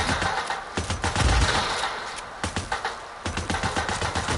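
Rapid bursts of gunfire in the video game Days Gone crackle in quick succession, sharp repeated shots dense at first then in a steady staccato run, loud and close.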